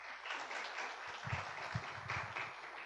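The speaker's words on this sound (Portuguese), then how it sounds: "Uma salva de palmas" Applause from an audience welcoming a lecturer at a foreign-trade talk; soft, distant crowd clapping that holds steady with a faint low rumble underneath.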